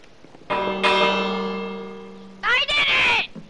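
A bell in Minecraft rings out with a long resonant tone that slowly fades, followed by a brighter, busier burst of bell-like chimes toward the end, loud and close.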